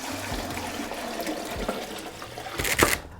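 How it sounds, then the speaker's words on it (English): Water poured into a cooking pot holding beef bones for a dry-aged beef broth, a steady close splashing fill that swells and grows louder near the end before stopping. "In that pot, we'll put some water"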